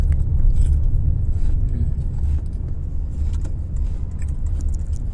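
Heavy evening traffic rolling along EDSA in Pasay, a constant low engine rumble with faint clinks and rattles on top, loud and unbroken, with no voices.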